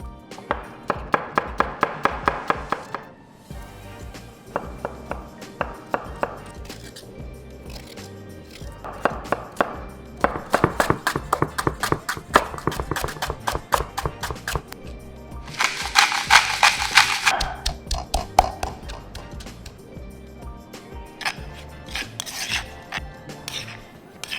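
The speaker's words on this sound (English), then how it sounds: "the next thing we're going to do is start cutting up our herbs" A knife chops shallots, turmeric, sand ginger and lemongrass on a board for a Malaysian herb rice salad, with rapid rhythmic cutting strokes in several bursts, some sharper and louder, near and without talk.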